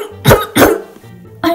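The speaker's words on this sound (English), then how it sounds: "Language through coughing." Two sharp, close coughs in quick succession, followed by a brief pause and the start of a third.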